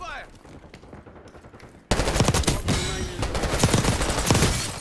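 Rapid automatic gunfire from an MP5 submachine gun in Call of Duty on Rebirth Island, opening quietly and then bursting loud and dense after about two seconds, sustained bursts crackling close by, with faint speech underneath.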